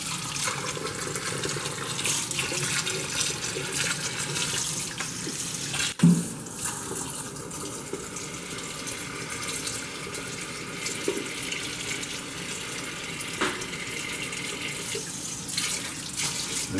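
Tap water runs steadily into a kitchen sink and bowl while pomegranate seeds are rinsed, a continuous splashing rush with one brief clunk partway through, no talking.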